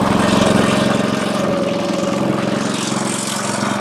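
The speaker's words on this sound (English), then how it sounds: "let's see if the Honda motor starts" A small Honda engine running on a spray rig, a close, loud steady buzzing hum with a fast regular pulse and no speech.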